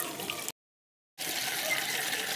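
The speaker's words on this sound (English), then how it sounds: "Turn your water on." Water gushes steadily from a tap, broken by a short silent gap before the flow resumes at the same strength.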